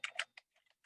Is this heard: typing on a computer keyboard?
yes